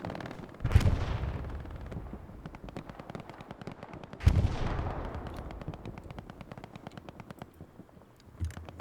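Two heavy artillery shells slam into the ground in a video game match on the Utah Beach map, a few seconds apart, each a deep booming impact followed by a long rumbling tail, with rapid rattling gunfire crackling throughout.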